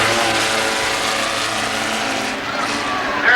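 Race cars, including a Pro-spec, fight for second place on a track, their engines a loud continuous roar that swells near the end.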